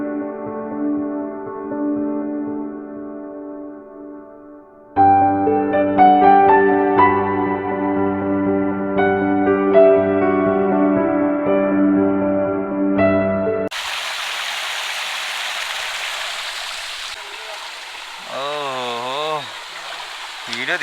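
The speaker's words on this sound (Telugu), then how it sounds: "అటు కూడా ఒక చిన్న వాటర్ ఫాల్ ఉంది చూడండి, అక్కడి నుంచి కూడా వాటర్ వస్తున్నాయి." After a long stretch of tonal music, a small forest waterfall comes in with a broad, steady rush of flowing water for the last several seconds, with a wavering whistle-like tone over it.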